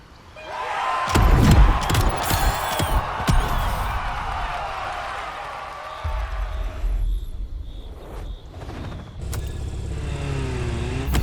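Ferrari LaFerrari supercar engine in the video game The Crew Motorfest, a loud burst of revving and acceleration that settles into a lower steady drone, then picks up again near the end.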